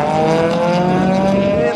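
An Audi S3 (8Y) with a TTE700 turbo accelerates hard at a drag strip, a loud, close engine roar with climbing harmonic pitch over a brief stretch, easing slightly at the end.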